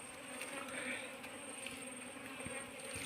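Honeybees buzzing around a nest, a dense continuous drone close by with scattered faint rustles and knocks underneath.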